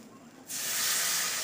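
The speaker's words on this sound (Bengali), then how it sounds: "এবার জল দিয়ে দেব। অবশ্যই গরম জল দেবেন" Hot water poured into a pressure cooker of cooked dalia khichuri sets off a sudden loud hissing sizzle after a quiet moment, and the hiss holds steady and close.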